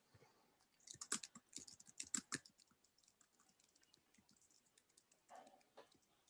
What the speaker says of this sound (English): I hear someone typing frankly in the background.